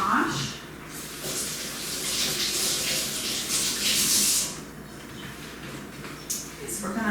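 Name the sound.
washing mushrooms under running water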